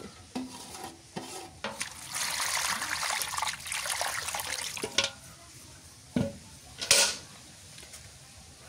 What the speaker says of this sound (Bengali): মাছটা ভালো করে ধুয়ে নিই।